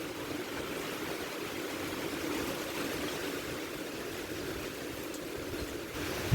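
Floodwater rushes through a rice field during Typhoon Kristen, a continuous broad watery roar that stays steady and even, with no voices.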